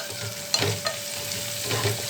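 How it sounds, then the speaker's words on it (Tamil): Lump asafoetida frying in hot oil for a horse gram rasam, a steady close sizzle with faint clinks and stirring in a home kitchen, no talking. "இது கொஞ்சம் நேரம் பொரிஞ்சு வரட்டும்."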